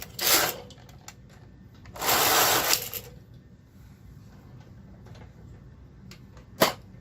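A Passap Duo 80 knitting machine knits a row of slippers. There are two loud rasping sweeps of the carriage, short ticks and clicks between them, and a sharp clack near the end, all in a quiet room.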